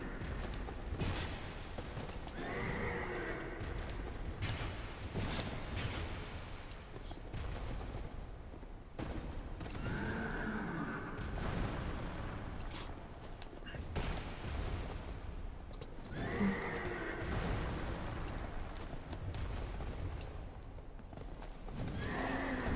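A horse in the video game Dark Souls 2 whinnies repeatedly among clattering hoofbeats and bursts of distant gunfire, with a voice talking over parts of it.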